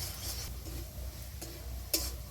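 Spices and turmeric powder stir-fried in oil for a Bengali fish curry, with soft scraping strokes against the pan over a low sizzle and a sharper clink near the end.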